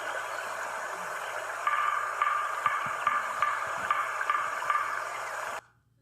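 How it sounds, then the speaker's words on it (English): A series of short, sharp knocks repeats at a steady pace over a low background hum, then the sound cuts off abruptly. "Coming up is the sound of a woodpecker."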